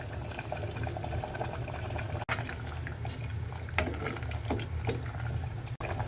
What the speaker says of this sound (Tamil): இப்போ அகெயின் ஸ்டவ் ஆன் பண்ணிவிட்டு கொஞ்ச நேரம் கொதிக்க விடலாம்.